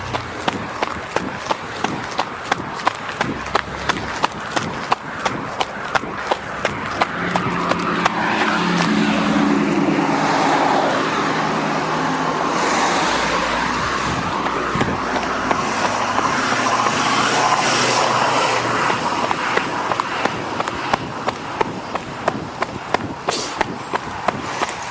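Continuous road traffic noise near Mount Douglas Park, a steady loud roar with passing vehicles swelling and fading, plus a regular ticking rhythm throughout.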